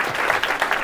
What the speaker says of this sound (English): One more round of applause for them, yeah.